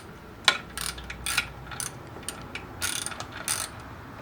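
A ratchet clicks in short repeated bursts while tightening the clutch pressure plate bolts on a Camaro during a rebuild, the pawl's rapid ticking close and fairly loud over a low steady hum.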